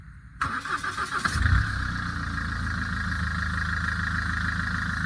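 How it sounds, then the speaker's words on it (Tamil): A car engine, just fitted with a new engine pulley after a failed vibration damper, cranks briefly and catches, then settles into a steady, loud, close idle. "இப்போ வண்டி ஸ்டார்ட் பண்ணுங்கள்."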